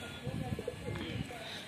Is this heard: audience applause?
no